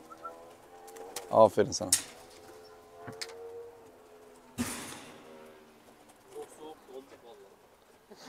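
Tumbler pigeons coo softly in a loft, low rounded calls recurring among a man's speech, with a couple of louder bursts of handling noise or wingbeats.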